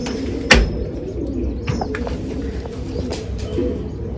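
Domestic pigeons kept by a fancier, cooing softly nearby with a few brief chirps and a sharp knock or flutter near the start, over a low background murmur.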